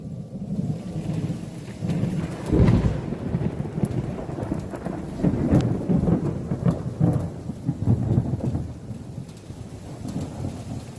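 Thunder from lightning strikes rolls through a Cincinnati thunderstorm, deep rumbles swelling and fading repeatedly over steady rain, with one loud crack-like peak early on.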